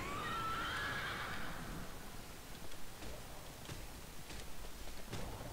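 A horse in a video game gives a loud whinny at the start, followed by light, scattered clip-clop ticks.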